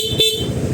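Stock horn on a Yamaha Aerox 155 motorcycle gives one short, loud, bright honk close by, steady and brief, over a low engine rumble.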